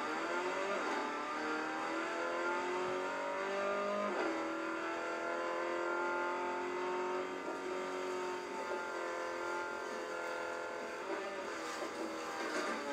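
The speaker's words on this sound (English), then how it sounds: "Why is my car fucking sliding like that" A car in GTA revs hard and slides, engine pitch sweeping up and down continuously and loudly for many seconds with no pause.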